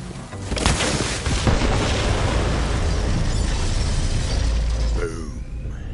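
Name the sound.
bomb explosion in video game Borderlands 3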